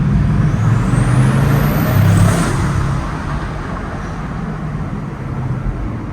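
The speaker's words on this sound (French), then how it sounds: "c'est ma plus grosse accélération de ma vie en Bugatti" Bugatti Chiron under hard acceleration, a loud, dense low engine roar filling the whole stretch, strongest early then settling slightly, with a rising whine sweeping up high near the two-second mark; no talking.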